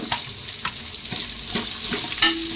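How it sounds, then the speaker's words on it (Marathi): Sliced onions and chillies, two to three onions cut lengthwise, sauté in a pan for sambar until reddish: a steady, close sizzling hiss with scattered scraping and clinks from stirring throughout. "त्याला आता आपण लालसर असा कलर बदलेपर्यंत आपण त्याला परतून घेऊ।"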